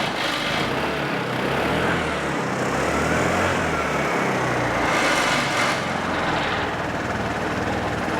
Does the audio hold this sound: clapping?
no